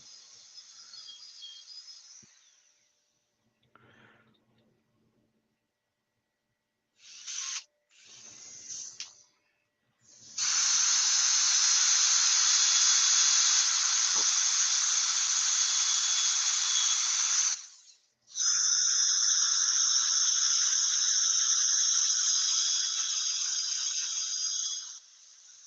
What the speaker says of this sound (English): Imagine that sanding up real nice, isn't it?